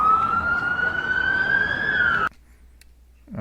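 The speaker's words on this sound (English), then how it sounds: "Hear the sirens now" A loud wailing police siren rises steadily and then cuts off abruptly near the Tropicana self-park, followed by near silence.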